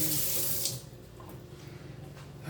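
Water runs from a kitchen tap while something is rinsed under it for a smoothie bowl, a loud close hiss that suddenly drops to a quieter trickle partway through, with no voices.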